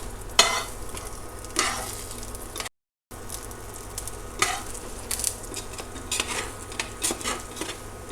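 A crab omelette fries in a cast iron skillet with a steady soft sizzle, broken by occasional scraping strokes as the edges are pulled in and one brief dropout.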